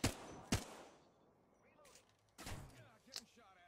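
Triple Take rifle shots in the video game Apex Legends ring out as loud, isolated cracks, two close together at the start and two more later, with quiet gaps and faint voices between.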